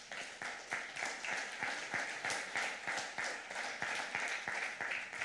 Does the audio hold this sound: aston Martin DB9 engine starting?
no